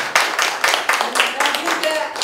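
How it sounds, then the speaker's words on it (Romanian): Short burst of clapping from a small audience at a conference on older people, close and rhythmic with distinct individual claps and a voice faintly present. "Da, cu aplauze."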